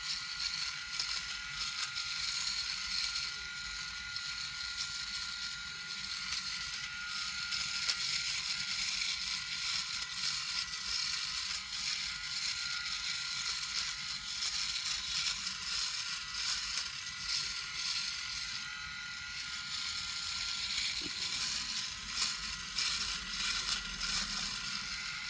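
A PHISCO electric shaver cuts through long stubble on a dry face with no cream, giving a steady, close buzzing drone with a slight grabby, crunching texture that runs on without a break.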